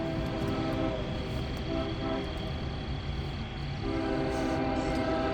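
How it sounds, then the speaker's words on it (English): A CSX freight train rumbles steadily close by, with a dense, continuous roar of engines and rolling cars that dips briefly and then swells again, with no talk over it. "The train is coming."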